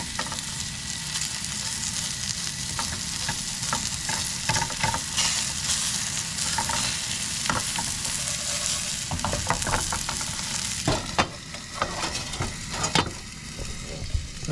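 Pancakes frying in hot oil in a pan, a continuous close sizzle and crackle with scattered louder pops and spatters, no voices.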